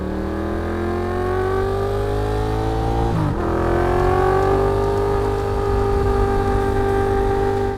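A cruiser motorcycle from a superbike maker revs its engine loudly nearby, holding a deep steady rumble, blipping sharply midway, then climbing to a stronger, higher drone.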